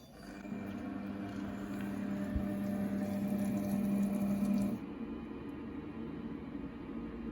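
A Monsieur Cuisine cooker heats and browns onions and garlic, giving a steady motor hum with a faint sizzle. It cuts off partway through, leaving quieter background noise.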